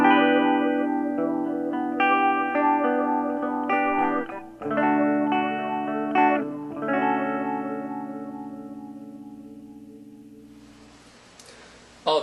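Blue Dinosaur Interstellar Watermelon guitar pedal in reverse mode with depth turned down: sustained, swelling guitar chords that shift a few times, then fade slowly into a long decaying wash, ending with a brief noisy burst.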